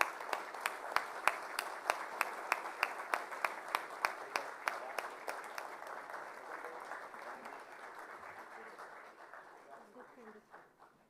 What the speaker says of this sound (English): Shri Bhupendra Bhai Patel, with a standing ovation and a huge round of applause for gracing this occasion